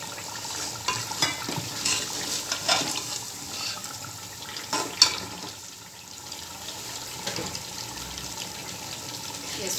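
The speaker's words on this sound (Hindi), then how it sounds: "नीचे थोड़ा लग रहा है, मैं 1 घूंट पानी का डाल रही हूँ।" A splash of water goes into a pot of beef paya, Lahori-style, sizzling and bubbling steadily with scraping and stirring clatter throughout, fairly close and moderately loud.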